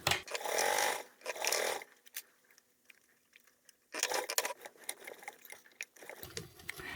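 A sewing machine topstitches a large foldable tote bag with a 1/8 inch seam allowance, running in loud bursts of rapid stitching separated by pauses, with a brief quiet stretch holding a faint steady hum.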